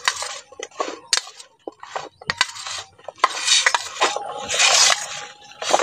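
Raw mango pieces being mixed by hand with salt and turmeric in a bowl, giving repeated clinks and scrapes against the dish in an uneven rhythm, close and fairly loud, with no talking.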